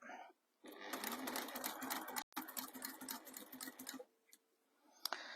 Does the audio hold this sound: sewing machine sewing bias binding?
yes